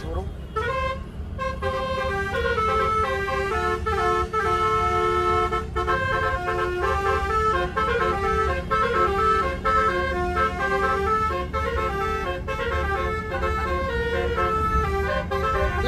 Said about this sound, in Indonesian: Tuh, bus klakson.